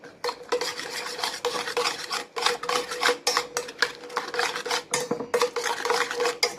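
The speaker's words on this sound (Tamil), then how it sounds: "கொஞ்சம் நல்லா கலக்கிடலாம் முட்டையை." Eggs seasoned with salt are whisked briskly in a bowl, a close, steady run of rapid clinking and scraping strokes against the bowl's sides with no talking.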